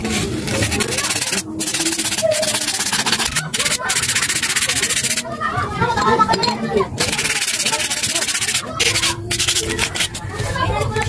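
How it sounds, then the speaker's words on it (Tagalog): A Suzuki Burgman 125 brake part rubbed with sandpaper, loud continuous scratchy strokes up close with brief pauses, with faint voices in the background. "lihain ko lang muna to sandali"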